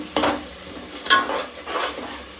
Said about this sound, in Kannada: ಕಲರ್ ಚೇಂಜ್ ಆಗೋವರೆಗೂ ಹೀಗೆ ಇದನ್ನು ರೋಸ್ಟ್ ಮಾಡಿ.